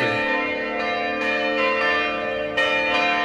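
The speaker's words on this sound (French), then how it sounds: "Et si dehors les cloches sonnent" Church bells ring outside in the Mercantour, several loud, overlapping metallic strikes with long ringing decay, repeating over a steady wash of tones with no talking.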